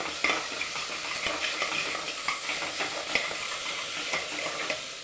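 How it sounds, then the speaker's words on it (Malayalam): Tomatoes fry in a pan and sizzle steadily up close while a spoon stirs them, scraping and clinking in repeated strokes, with no one talking. "നമുക്ക് തക്കാളി ഇട്ട് കൊടുക്കാം. ഒന്ന് ഇളക്കി കൊടുക്കാം."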